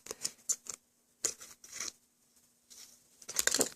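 Scissors snip through the plastic packaging of a Popin' Cookin' candy kit, giving a few short, sharp cuts and crinkles, close and crisp, with quiet pauses between them.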